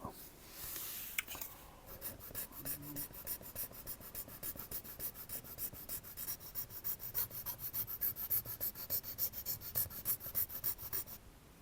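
A small file rasps steadily at a 1:35 scale Packard Twelve wing, with quick, even back-and-forth strokes that get louder and more regular as it goes, close up and with no talking.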